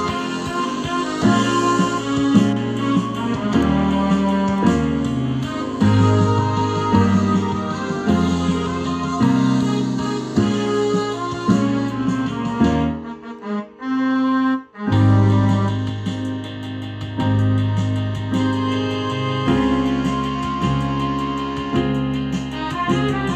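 Solo piano plays the second half of the chorus of a song in a band-style arrangement, with steady chords and a melody over a bass line, pausing briefly near the middle before carrying on, with no voices.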